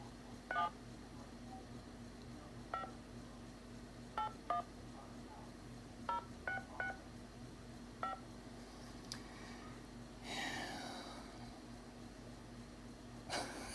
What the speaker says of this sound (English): I'm calling the other number.